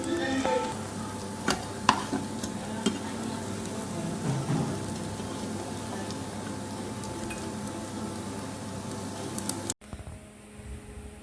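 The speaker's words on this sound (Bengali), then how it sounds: "এভাবে একে একে বড়াগুলো সবগুলো ভেজে নেব।" Small shrimp fritters frying in oil, a steady crackling sizzle close by with a few sharp pops and utensil knocks, cutting off abruptly near the end; no talking.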